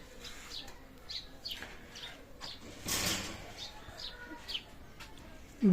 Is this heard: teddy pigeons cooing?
yes